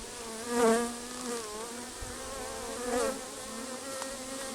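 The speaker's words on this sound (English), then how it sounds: "Nice young bees." Honey bees from an open, queenless hive drone in a steady, close buzz, their pitch wavering and swelling as individual bees fly past, with no talk.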